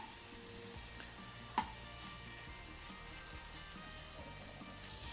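Jalapeno and guajillo sausage sizzles steadily on a discada, a broad continuous fry hiss with a single sharp clink partway through and faint scraping.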